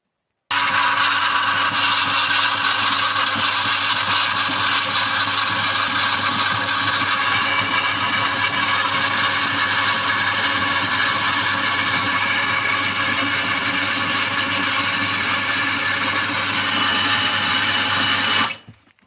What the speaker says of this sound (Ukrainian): зараз включу мотор